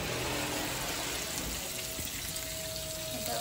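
Tap water runs steadily into a sink while a fish head is rinsed in a home kitchen, a continuous close splashing hiss with no pauses.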